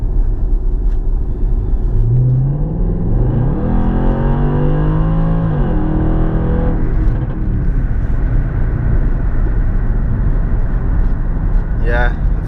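A Jaguar XF fitted with a custom air intake revs up, its engine note climbing and falling in a loud, steady drone heard with the windows up, with a fainter rev near the end.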